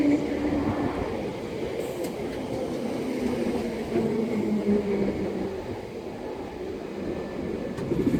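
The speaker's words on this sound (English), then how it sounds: "arriving in now is going to be the 12:36 London Underground Bakerloo line service to Harrow and Wealdstone" A London Underground Bakerloo line train pulls into South Kenton station, a steady low rumble of wheels and motors that holds at a constant loudness throughout, with no talking.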